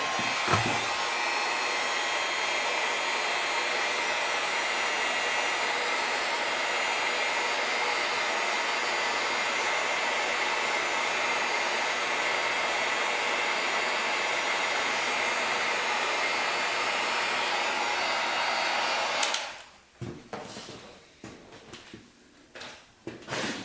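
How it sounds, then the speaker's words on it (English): A heat gun blows steadily on a Honda CR250 dirt bike near the gas tank, a constant close airy roar for about nineteen seconds before it shuts off, leaving quieter handling clatter and knocks. "You gotta be kind of careful using the heat gun when you're doing this."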